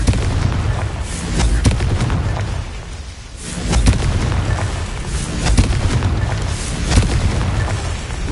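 Confringo blasting spell explosions in the Hogwarts Legacy video game: a series of loud, booming blasts roughly every second or two over a dense, rumbling battle backdrop, with no talking.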